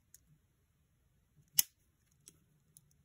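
Small scissors on an off-brand Swiss Army knife snip once sharply, then give a few faint clicks, close and quiet with no talking.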